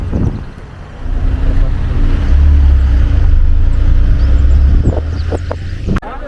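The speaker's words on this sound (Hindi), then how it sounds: "ये गाड़ी छोड़ के आ रही है।" A vehicle rolls up at Chandanwari base camp on the Amarnath Yatra route, its engine a loud, low, steady rumble that swells, holds for several seconds and then drops away amid outdoor crowd noise.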